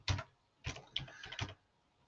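Someone types on a computer keyboard, tapping out a few quiet, close keystrokes in short clusters separated by brief pauses.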